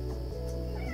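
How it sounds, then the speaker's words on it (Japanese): A domestic cat meows once in the background, a short faint drawn-out call with no speech over it. "今日もにゃんこちゃんが後ろで泣き始めたにゃん。"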